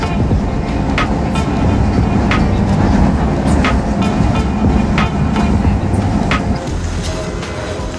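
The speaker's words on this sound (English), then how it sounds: "We're taking a train again here as well." A train rumbles along with a steady low roar and repeated rhythmic rail clicks, heard from inside the carriage.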